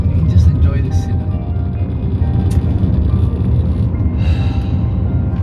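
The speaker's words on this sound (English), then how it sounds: "Listen to the purr." Smooth-running car engine idling with a steady low purr, a constant rumble close by with faint higher hiss, voices briefly present over it.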